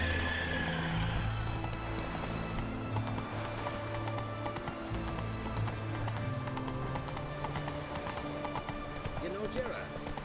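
Roach the horse gallops in The Witcher 3, a steady clip-clop of hooves with occasional snorts, close and continuous beneath game music and a voice.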